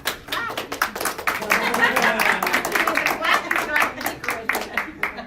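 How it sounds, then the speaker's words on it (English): Audience clapping at a celebration for capstone students, brisk individual hand claps in a quick uneven rhythm, fairly close and loud, with voices talking underneath throughout. "Also, just keep clapping the whole time."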